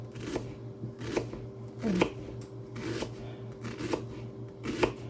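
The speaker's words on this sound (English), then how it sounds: "I'm going to take this onion that I had left from the other day. We're going to finish cutting it up." A knife julienne-cuts a leftover onion on a cutting board, with about six crisp, evenly spaced chops over a low steady hum, close and moderately quiet.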